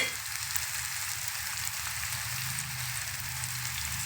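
Bottle gourd and prawns frying in a pan for a curry, a steady dense sizzle like light rain that holds evenly throughout, close and fairly loud with no voices.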